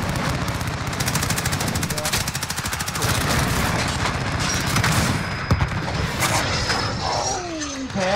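Dense automatic gunfire from a new weapon in Call of Duty: Modern Warfare, rapid continuous bursts over about eight seconds with booming impacts and a voice talking underneath.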